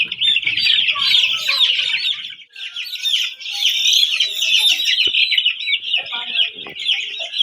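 A dense, continuous chorus of shrill peeping from Sonali chickens during beak trimming, loud and close, with scattered clucks and handling noises underneath.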